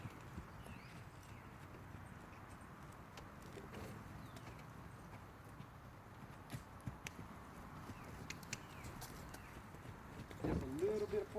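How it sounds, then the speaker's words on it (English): A young filly trotting in a nice little trot, soft rhythmic clip-clop hoofbeats on the ground at a moderate distance, with light background noise and a brief louder burst near the end. "So we got her going in a nice little trot."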